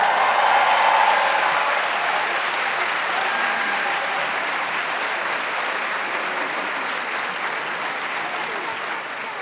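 Sustained, loud applause from a concert audience for a children's choir at Auditorium Jacques Brel, a thick continuous patter of many hands that eases off only slightly toward the end, with faint crowd voices underneath.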